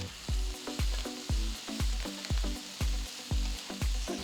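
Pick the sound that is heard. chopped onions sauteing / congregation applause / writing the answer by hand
chopped onions sauteing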